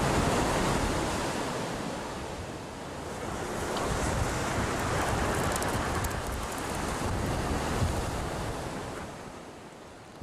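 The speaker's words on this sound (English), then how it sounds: "It precedes a coast beaten by waves with imposing rocks." Waves beat against an imposing rocky coast in the Canary Islands, a constant loud roar of surf mixed with wind buffeting the microphone, swelling and easing over ten seconds with no voices.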